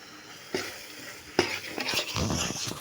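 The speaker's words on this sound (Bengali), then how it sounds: "এভাবে দিয়ে অনবরত নেড়ে নিয়ে আমি পারফেক্টলি হওয়ার জন্য ওয়েট করতেছি।" Watermelon laddu mixture with powdered milk being stirred in a pan: a few distinct scraping strokes over a soft, faint sizzle, heard up close and alone.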